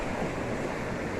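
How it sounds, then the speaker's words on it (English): Steady ocean surf washing onto a beach during a morning walk, a continuous broadband wash of waves with faint wind noise, close and fairly loud, no voices. "So like just being here at the ocean"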